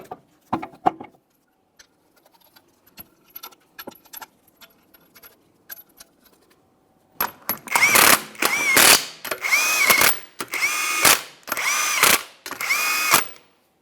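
Ratchet and power tools reinstalling a wheel on a 2008-2017 Mitsubishi Lancer, faint clicks and clinks at first, then loud, close bursts of impact-gun whirring in repeated pulses with metallic rattling.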